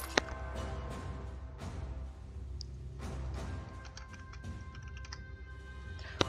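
Rapid clicking keystrokes on a new computer keyboard during a strategy-game session, steady and close with a few sharper taps, no talking.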